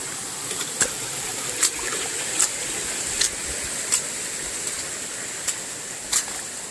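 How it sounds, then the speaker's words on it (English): A small creek flowing across a muddy trail after rain in the Smoky Mountains, a steady close wash of running water with faint soft splashes and brief knocks at regular intervals. "Little creek in the middle of the trail here."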